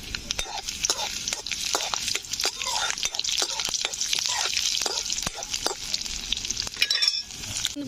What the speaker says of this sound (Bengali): এবারে দেখো রসুনগুলোকে ভেজে নেবো একটু লাল করে